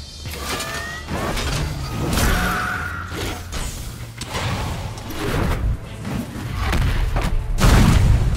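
Bombs exploding in the video game Battle Chasers Nightwar, a run of heavy booms and thuds mixed with whooshes and mechanical game effects, loud and layered over a dense soundtrack.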